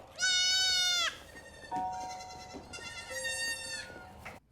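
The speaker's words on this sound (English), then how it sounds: "Fine, we didn't want your stupid goats anyway." Goats bleat loudly in a few drawn-out, wavering calls, one long cry followed by shorter overlapping bleats, close and clear against a quiet background.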